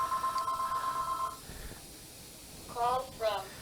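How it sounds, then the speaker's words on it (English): A telephone rings in short electronic trills, one steady tone at first and then two brief bursts near the end, heard close and fairly clear over quiet background. "And you guys hear the phone and everything."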